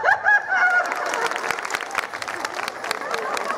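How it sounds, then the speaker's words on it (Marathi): Loud applause from the audience at a Home Minister show in Pimpalner, a broad sustained wash of clapping that carries on throughout, with a few voices audible near the start. "जोरदार टाळ्या."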